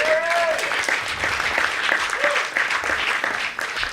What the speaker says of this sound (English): Nice round of applause for Teri.